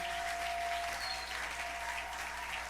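A church congregation claps together in a brief, steady burst of applause with a soft, roomy quality.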